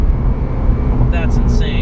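A Corvette ZR1 60th Anniversary pulls at full throttle in second gear, a loud, low engine roar filling the cabin, with a person talking over it.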